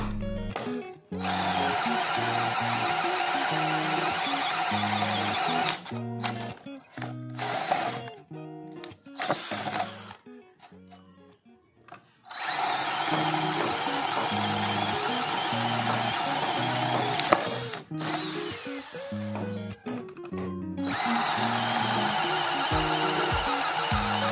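A 12V Novus cordless drill whines steadily as it bores into 2 cm mahogany, in long sustained bursts broken by short pauses and stops, close and fairly loud.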